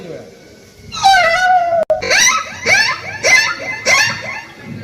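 A voice imitates a hurt puppy, giving a series of high, wavering whimpers and yelps, close and loud, in short repeated bursts.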